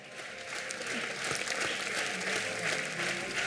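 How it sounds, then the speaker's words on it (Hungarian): Warm applause from an audience at Lakitelek fills the room for the literary translators, a dense steady clapping that swells slightly and holds with no voices over it. "majd hatalmas tapssal köszönték meg a munkájukat"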